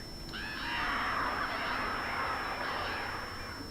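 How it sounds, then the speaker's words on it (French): Crows cawing in a dark outdoor scene of the video game Alan Wake, a dense, steady chorus of harsh overlapping calls lasting throughout. "Il y a beaucoup d'oiseaux là."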